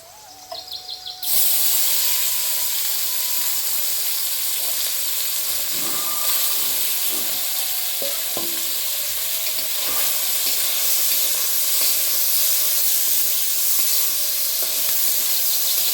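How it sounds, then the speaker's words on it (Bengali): Small fish sizzle and spit loudly in hot mustard oil with fried garlic, a steady dense frying hiss that starts abruptly after a quiet moment and continues, with occasional utensil stirs and faint bird calls in the background. "রসুনটা ভাজা হয়ে গেছে এখন মাছটা দিয়ে দিব"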